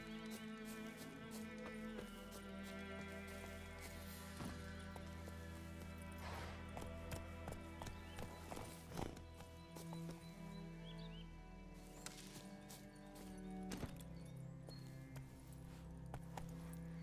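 Roach, the horse in the video game The Witcher 3, gallops with a continuous, quiet clip-clop of hooves layered over a dense game soundtrack and ambience, with scattered sharper hits throughout.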